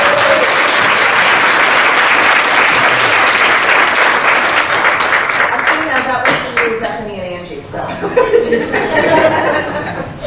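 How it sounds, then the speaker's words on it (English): A room of attendees at a strategic planning meeting gives a round of applause, steady clapping that fades while people chuckle and talk over the tail. "let's give them a round of applause."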